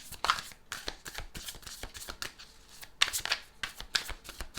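Tarot cards being handled and laid down one after another during a reading, a steady run of close, crisp papery slaps and shuffling swishes with a few sharper card hits.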